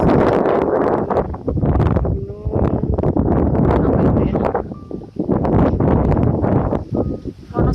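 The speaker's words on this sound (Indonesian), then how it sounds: "Ini anginnya sangat kencang" Strong gusts buffet the microphone on the summit of Mount Puyur in Kabuh, Jombang, roaring loud and close in uneven surges with brief lulls.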